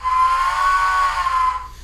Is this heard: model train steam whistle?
yes